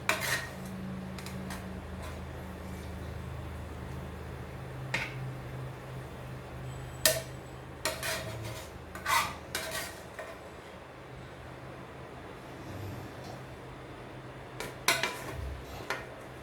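Fried chicken for spicy Korean garlic kkanpunggi being plated, with dishes and utensils clinking and clattering in scattered sharp taps over a low steady kitchen hum, nearby and moderately loud.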